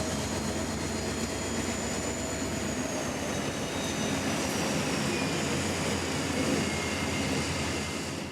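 CSX freight train 791 creeping slowly into St. Pete Yard, a steady low rumble and rolling drone with a faint high whine drifting over it, continuous and fairly distant, with no voices.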